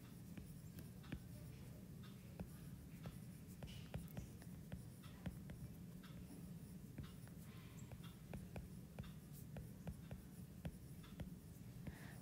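Pencil writing on a sketchbook, a soft, steady scratching with many small taps and strokes, quiet and close.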